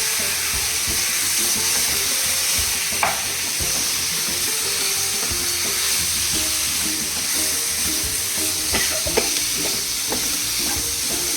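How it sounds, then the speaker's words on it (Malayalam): Chicken for jeera chicken being stir-fried in a pan, a loud continuous sizzle with occasional scraping and stirring clinks, steady from start to finish. "ചിക്കൻ ഇട്ട് നല്ലോണം ഇളക്കുക."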